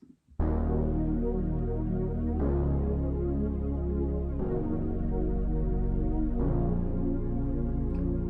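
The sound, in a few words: analog synth bass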